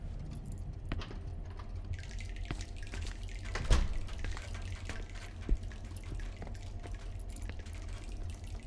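Water drips and dribbles faintly in the Song of Horror video game. A few sharp drops stand out over a quiet, steady background hum, with no voices.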